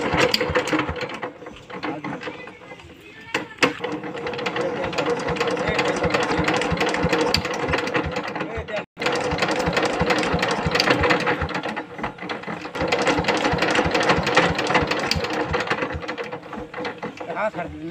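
A power tiller engine with a freshly replaced head nut starts and runs near, a fast rhythmic mechanical clatter that continues steadily with one brief cut-out midway, with some talk in the background.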